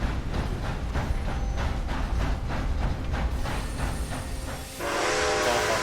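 A train rolls past in the Red Dead Online video game, a steady rumbling clatter with rhythmic wheel beats for several seconds, ending in a louder rushing hiss.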